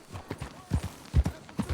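Horse hooves clip-clop at a steady trotting rhythm in a video game, clear and fairly close, with about eight distinct hoof strikes.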